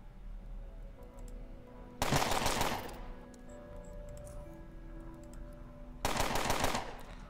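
Two loud bursts of automatic gunfire from the game Underrail, each about a second long and spaced several seconds apart, with a quieter game ambience humming between them.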